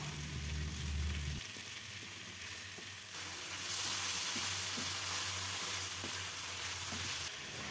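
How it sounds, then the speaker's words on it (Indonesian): Green tomatoes stir-fried with salt, stock powder and sugar, giving a steady close sizzle with occasional scrapes of the spatula, a low hum under the first part and a brighter, louder hiss through the middle. "Kita tumis, kita masak sampai layu"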